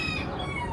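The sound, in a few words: chickens clucking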